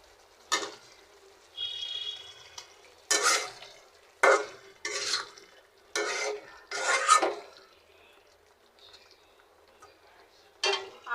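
Potatoes are stirred into fried spice paste in a pan, with a series of sharp, close scraping strokes separated by near-silent pauses and a faint sizzle.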